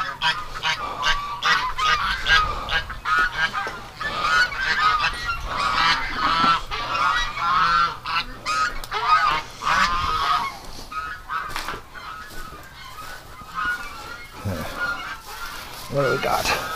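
Many geese honk repeatedly and loudly nearby, a noisy overlapping chorus that continues throughout with brief dips.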